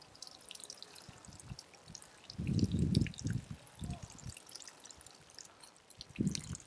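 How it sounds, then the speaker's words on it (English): Water drains from the drainage holes of a freshly repotted Japanese black pine bonsai after thorough watering through akadama soil, heard as close, uneven splashing and trickling in irregular bursts. "water very thoroughly until the water that's running out of the drainage holes runs out clear"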